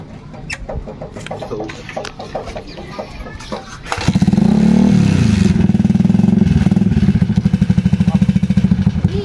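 Inline-4 motorcycle with a project exhaust pipe fitted with a silencer, idling unevenly at first, then revving up into a loud, sustained, steady drone that holds close and strong for several seconds.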